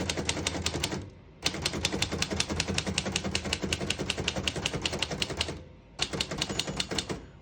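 Keys strike rapidly on a 1929 Royal P Model vintage portable typewriter, sharp close clacks in quick rhythmic bursts, broken by two brief pauses.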